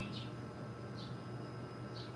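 Faint, distant bird chirps repeating about once a second, each a short high tweet over a quiet background hum.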